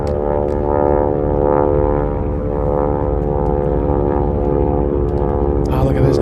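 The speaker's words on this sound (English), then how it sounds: "let's go back to the Navy planes as Vicky gets ready to do her performance" Navy propeller planes at an air show in Apple Valley fly by with a loud, steady engine drone that holds throughout, under a dense crowd murmur and occasional talk.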